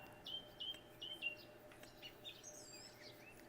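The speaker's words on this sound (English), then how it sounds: "Birds are having a party." Quiet ambient birdsong from the farming game Farming Simulator 25: a quick series of high, thin chirps repeating in short bursts, then softer scattered tweets against a faint background hum, with no talk.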